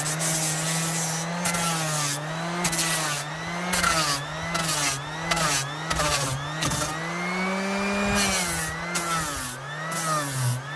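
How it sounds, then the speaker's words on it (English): A sanding disc grinding gel coat off the starboard side of a boat hull, a loud continuous whining drone with rising and falling pitch as the sander's load shifts, steady throughout with no talk. "I got a brand new sanding disc on, and we got to finish this out and get this side, get the starboard all sanded out"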